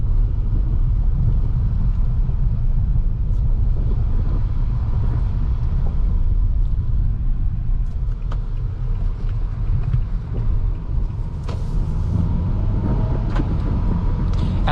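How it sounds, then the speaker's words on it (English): A 2021 Nissan Altima SR AWD rolls over a gravel road, heard from inside as a loud, steady low rumble of tyres and road noise with scattered light crackles of stones. "pretty smooth ride over this gravel road"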